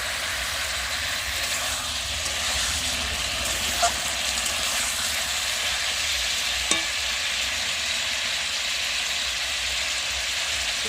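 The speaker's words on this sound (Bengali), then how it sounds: "তো আমি ভালো করে মাংসটাকে এবার কষিয়ে নেব তেলের ওপর।" Kadaknath chicken meat frying in oil, a steady close sizzle holding throughout with a couple of small clicks of a utensil against the pan.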